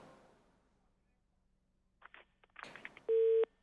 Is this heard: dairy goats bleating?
no